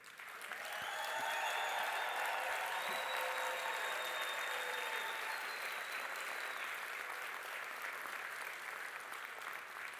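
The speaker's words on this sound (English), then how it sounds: "show and acknowledge the support of your loved ones with a hearty round of applause to them" Graduates at a Stellenbosch University economic and management sciences ceremony give a hearty round of applause to their loved ones, a thick, steady roar of many hands that swells and holds, with faint voices woven through it.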